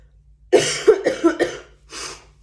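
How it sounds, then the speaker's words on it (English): A few harsh coughs in quick succession from a person recovering from illness, close and loud, with a last separate cough after a short pause. "so I apologize about the cough"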